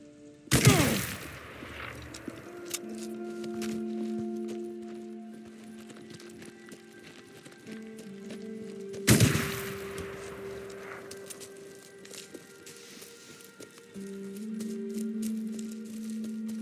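Sniper fire in the video game Days Gone, two sharp loud cracks spaced several seconds apart over a low droning game soundtrack.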